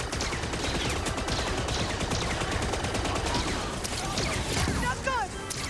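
Dense, sustained gunfire fills a Star Wars Outlaws firefight with the player pinned down, loud and continuous throughout, with faint voices mixed in.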